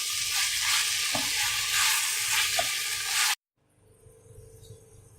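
Chicken stirring and frying in a pan, a loud steady sizzle with faint scraping for about three seconds before cutting off abruptly, then quieter low kitchen noise.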